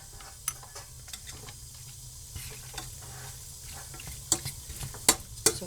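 Minced beef browning in a pan for shepherd's pie, a quiet steady sizzle with occasional sharp ticks and scrapes of stirring, close and low in level.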